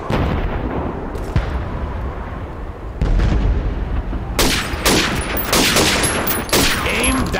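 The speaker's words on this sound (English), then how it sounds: "Step up to the shooting range. Ready, comrades? Shoot those bottles and plates." Repeated gunfire from Call of Duty 2 at a shooting range, rifle shots aimed at bottles and plates, loud sharp cracks coming in a steady run of bursts with rumbling booms throughout.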